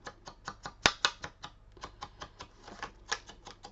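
A card is blackened with ink for a shabby-style envelope album, giving a fast regular series of sharp dry taps, about four per second, close and crisp, with one louder knock early on.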